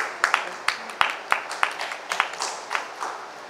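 An audience applauds at a Thyagaraya Gana Sabha event in Hyderabad. The hand claps are moderate and fairly steady, then soften toward the end.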